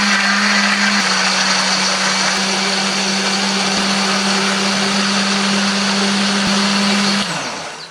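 A blender grinds chili, shallots, garlic, turmeric and candlenut with a little added water, giving a loud, steady whirring roar for about seven seconds before it winds down and stops.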